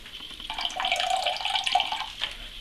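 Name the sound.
water poured out of water softener filter housing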